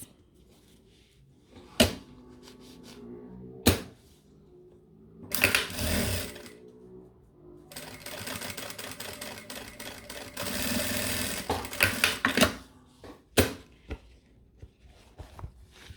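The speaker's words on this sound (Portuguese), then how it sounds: "vou passar uma costurinha aqui pelo lado do zíper para juntar os 2 materiais" A sewing machine runs stitches along the side of a zipper joining two layers of patchwork fabric. Short separate whirs alternate with a longer continuous buzzing run, set against quiet handling clicks and knocks nearby.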